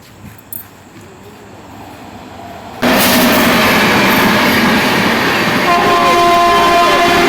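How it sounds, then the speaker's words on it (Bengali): The Coromandel Express passes through Balasore: after a quiet, low rumble, a loud train roar and horn blast bursts in abruptly and stays close and sustained, with the horn tones holding steady toward the end. "করমন্ডল, কি আসছে ট্রেন।"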